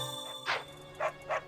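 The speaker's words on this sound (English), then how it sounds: "Can you stop barking?" A dog in the video game Fire Emblem: Three Houses gives three short, clear barks, one then a pause and two closer together, over a faint steady musical background.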